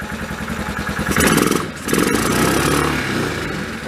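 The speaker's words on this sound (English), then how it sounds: "Let's give her a little bit of choke just to try to get the throttle up." A Yamaha Kodiak ATV engine runs with the choke on, chugging at a rough idle before revving up loudly, dipping briefly, then holding a high, strained rev close by.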